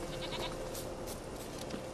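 A goat bleats in The Witcher 3 video game, several wavering bleats close and clear over steady game ambience.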